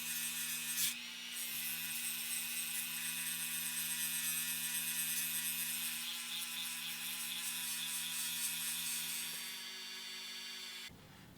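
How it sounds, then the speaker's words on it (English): A power tool's 80-grit flap wheel grinds steadily against metal on a custom crew cab pickup build, with a high, harsh whine and a constant motor hum, cutting off abruptly near the end. "I'm going to use an 80 grit flapper wheel. And we'll just buzz this"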